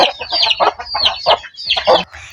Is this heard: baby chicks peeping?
yes